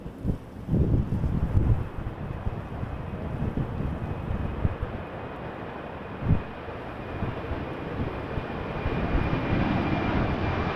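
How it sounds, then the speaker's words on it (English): An Airbus A320 lands at Vancouver airport. Its jet engines give a loud, steady roar that holds through the whole stretch, with a brief thump partway and wind buffeting on the microphone. "A320 about to touch down."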